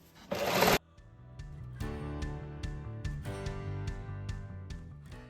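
A sewing machine stitches stretched fabric on a pair of pants, running in a steady mechanical whir of quick repeated stitches with a few short pauses, close and fairly loud after a brief burst of noise at the start.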